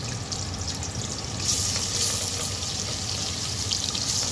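Garlic frying in ghee for molokhia makes a steady, close sizzle with bright crackling that grows slightly louder partway through and continues without talking.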